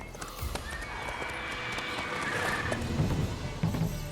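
A horse in the Witcher 3 game neighs in a drawn-out whinny while its hooves clop steadily underneath, set against a dense, busy game soundscape with no clear speech.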